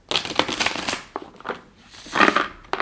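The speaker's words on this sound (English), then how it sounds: "I find them super easy to shuffle. They riffle shuffle like this amazingly." Tarot cards are riffle shuffled by hand, giving a few quick, crisp fluttering bursts separated by short pauses. The sound is close and moderately loud.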